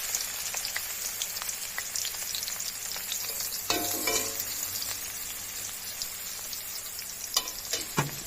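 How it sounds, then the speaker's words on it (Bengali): Capsicum frying in oil in a pan for chilli paneer, a dense continuous sizzle with bursts of spattering and a few clanks, close and fairly loud throughout, with no talking. "এবারে ওই তেলের মধ্যেই আমরা ক্যাপসিকামগুলো ভেজে নেব।"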